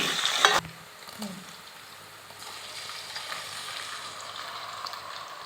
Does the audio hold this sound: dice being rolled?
no